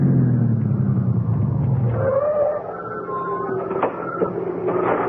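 A car engine rumbles low as the car pulls up at home after evening church service, the tone dropping and fading as it slows, followed by faint creaks and small clunks.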